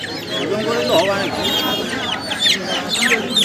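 Native chickens cluck and squawk in a busy chicken market, with overlapping calls from many birds, some near and some farther off, rising and falling continuously amid the crowd's murmur.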